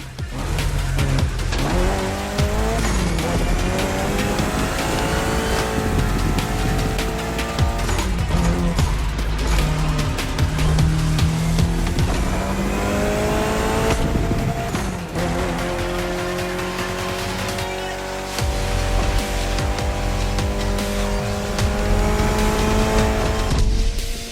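Race cars in a street race in the video game The Crew Motorfest roar continuously, with engines revving, rising and shifting pitch, and tires squealing throughout.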